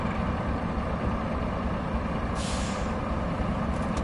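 Truck air brake hiss from a handbrake being set in the video game RoadCraft: one short, bright burst of air about midway, over a steady engine rumble, with a fainter second puff near the end.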